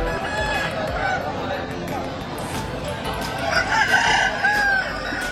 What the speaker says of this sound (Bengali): চারিদিকে মুরগির মাঝখান দিয়েই পথ করে চলতে হচ্ছে আমাদের